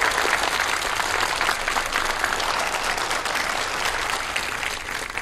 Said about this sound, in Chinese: 让我们用掌声有请 Grace 女士